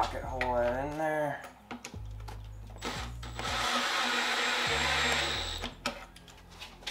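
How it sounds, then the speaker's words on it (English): A pocket-hole drill bores into patio chair wood: a steady, loud whirring burst of several seconds, with short bursts of speech and clamp handling before and after. "once you're lined up, pocket hole that in there."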